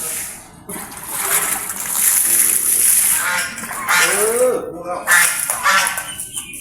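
Young ducks about a month old on a farm honk and quack at feeding time amid splashing water, calls overlapping in bursts close by, with a voice speaking at moments.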